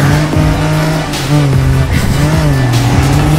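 Cars in the Rocket League video game spinning donuts, a loud continuous engine drone with shifting revs and tyre squeals, no talking over it.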